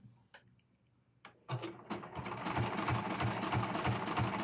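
A sewing machine stitching a dress in a home sewing session; after a quiet start with a few clicks, the motor kicks in at about 1.5 seconds and runs loud and steady with a rhythmic mechanical pulse, no voices.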